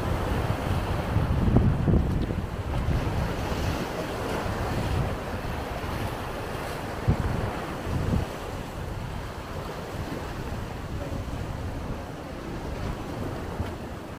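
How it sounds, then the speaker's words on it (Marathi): Sea waves roll onto Mandvi Beach in Ratnagiri under strong wind, a continuous close rushing roar with surging swells and gusty buffeting on the microphone. "तुम्ही ऐकू शकता समुद्राचा आणि वाऱ्याचा आवाज किती जास्त आहे इथे"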